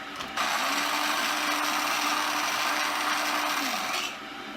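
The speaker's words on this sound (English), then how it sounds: "So I'm just going to go ahead and grind it a little bit longer." A coffee grinder grinds coffee beans for a French press in one continuous, loud whirring burst of about four seconds, starting abruptly and winding down at the end.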